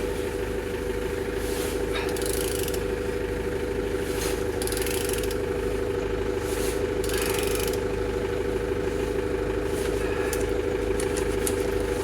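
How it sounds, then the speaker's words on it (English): Aircraft engine registered NA57GSO turning over steadily at close range, a continuous mechanical drone with a strong low hum and intermittent higher whooshing surges throughout. "Turning your engine"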